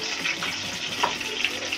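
Chicken leg pieces fry in hot oil as they are turned and lightly reddened, a brief, continuous close sizzle with small crackles.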